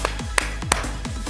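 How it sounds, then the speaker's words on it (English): Three big claps in a karate class game: sharp claps spaced about a third of a second apart, close and distinct over a quiet room background. "three big claps"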